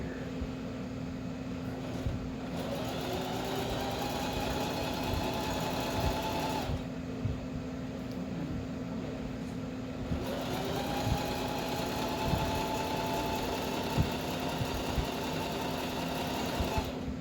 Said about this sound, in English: So I'm going to start sewing this edge here.